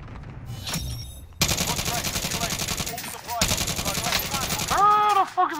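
Rapid bursts of automatic gunfire from a video game, loud and close, with sustained rattling volleys and a brief pause near the middle; a few scattered clicks and effects sit around the shots, and no voices talk over them.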